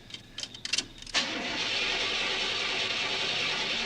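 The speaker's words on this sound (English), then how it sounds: "Of course the car doesn't work." A car in a 1981 horror film cranks with several short sputtering bursts, then catches into a steady, loud engine drone.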